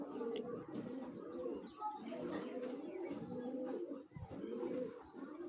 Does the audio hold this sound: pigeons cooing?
yes